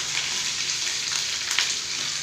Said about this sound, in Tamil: இந்த வெங்காயத்தையும் வதக்கிறேன்